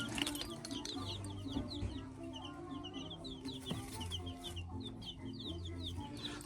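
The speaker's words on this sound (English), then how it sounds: "I will reveal the types or the breeds of chicken that they are" Newly bought chickens near a backyard coop: soft, low clucking and scattered high chirps, fairly quiet and continuous, with no talking.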